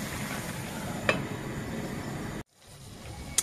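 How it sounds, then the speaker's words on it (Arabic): Minced kefta meat frying with onion in a pan gives a steady, close broadband sizzle, with a couple of sharp spatter pops, then a sudden drop to near quiet after a lid goes on. "كنخليو هاد الكفته حتى كتشحر لنا مع البصله"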